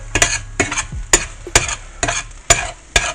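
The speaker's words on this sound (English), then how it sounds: "don't let this set in one place too long. Keep stirring it." Food being stirred in a pan, a run of sharp, regular scrapes and clinks about every half second, close and loud, with a faint sizzle underneath.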